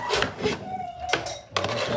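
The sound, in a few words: serving dishes being lifted and handled at a biryani dinner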